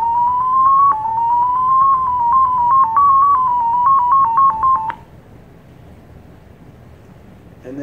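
Thor 8 digital radio mode transmission from FLDIGI software, a clear warbling tone hopping between close pitches for about five seconds with a click at the end, followed by near silence and a faint noise at the close.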